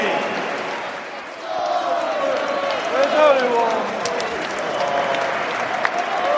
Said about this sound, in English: Please join us in a period of applause as we remember Sir Bobby.